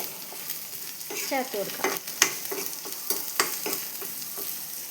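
Drumstick leaves frying in a pan give a crackling sizzle, while a spatula scrapes and taps against the metal in irregular strokes. A voice speaks briefly over the cooking.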